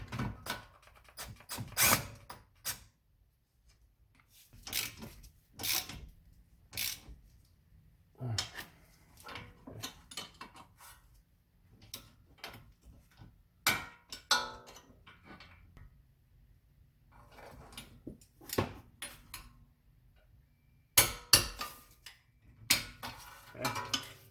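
Bolts being snugged up on an 8th-gen Honda Civic during axle seal work, heard as scattered close metallic clicks and ratcheting ticks in short bursts with quiet gaps between them.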